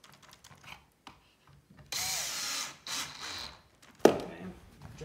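A power drill drives screws into three pocket holes while a shoe bench is assembled, in two loud sustained whirring bursts. A sharp clack follows. Quiet shuffling comes between the bursts.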